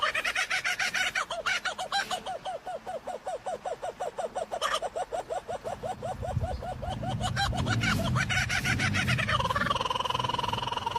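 A bird gives a long run of rapid, evenly spaced calls, loud and close, which break off into a rougher burst and give way to a low rumbling background near the end.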